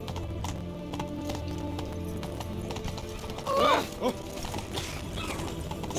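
Roach, a horse in The Witcher 3, gallops with rhythmic clip-clopping hooves, steady and fairly close, and a brief whinny cuts in midway over ambient game sound and faint voices.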